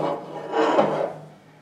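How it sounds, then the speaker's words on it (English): A hand saw rasps through the end of an Oilite bronze part in a machine shop, a single drawn-out scraping stroke that swells in the middle and tapers off, close and fairly loud. "I'm going to saw off the end of that."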